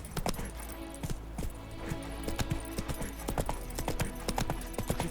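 In The Witcher 3, a horse gallops along, its hooves beating out a quick, steady clip-clop rhythm of sharp, close hoofbeats over a continuous low rumble of game ambience.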